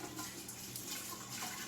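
Water poured from a 1.7-liter kettle of boiling water into a cooking pot, a steady continuous splashing and rushing that stays close and even throughout with no talk.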